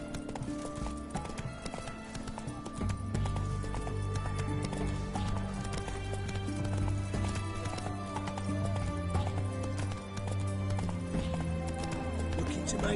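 Hooves of Geralt's horse Roach clip-clop in a steady walking rhythm in the Witcher video game, set against a bed of game music, with a brief whinny and a voice speaking over it.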